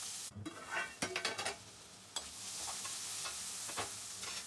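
Chana dal goes into hot oil with crushed garlic and onion in a pan, giving a steady sizzle, with a few stirring scrapes and clinks early on, close and fairly quiet, no voices.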